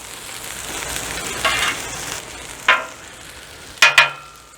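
Burger buns toast on a Blackstone griddle with a soft, steady sizzle, broken by a few brief scraping clicks of a spatula near the end.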